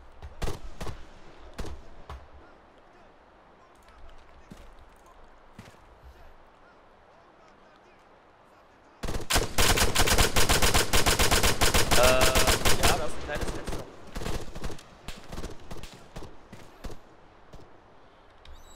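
Dense bursts of automatic and single-shot gunfire from an Arma 3 battle erupt loudly after a quieter stretch, hammering for several seconds and then thinning into scattered shots, with voices talking over it.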